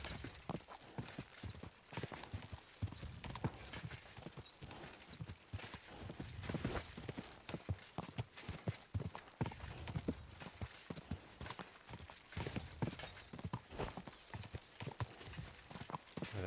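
Rapid, rhythmic hoofbeats of a galloping horse in the video game Kingdom Come: Deliverance II pound continuously, close and steady, with a brief whinny in the mix.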